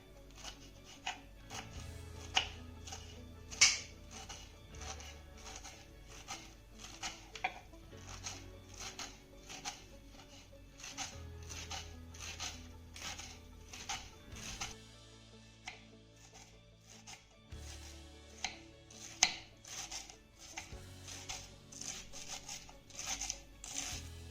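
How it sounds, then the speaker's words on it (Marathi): A knife finely chopping rolled-up taro (colocasia) leaves on a board, rapid steady knife strikes repeating close up throughout with a few sharper hits, no talking. "अशा पद्धतीने आपल्याला ही पानं बारीक चिरून घ्यायची आहेत"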